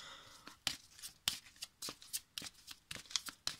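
Oracle cards are shuffled by hand, a close, quiet run of rapid riffling and flicking bursts in an uneven rhythm, with no speech over it.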